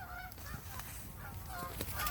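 Geese honk in repeated calls as a flock flies over an open, flooded millet impoundment, several overlapping cries rising and falling over steady wind noise.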